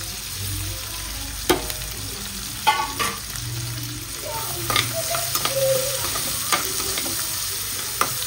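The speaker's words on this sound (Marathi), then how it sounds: "तर ह्याला मी फ्राय करून घेते." Potatoes and capsicum frying in a pan, with steady hiss and sizzle throughout, broken by sharp clacks and scrapes of a spoon stirring at irregular intervals, close and clear.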